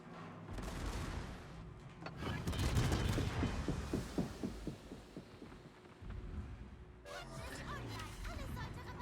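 Secondary battery guns firing aboard a warship in World of Warships, a rapid rumbling series of deep booms rising and fading over several seconds, followed by quieter distant shots and faint voices.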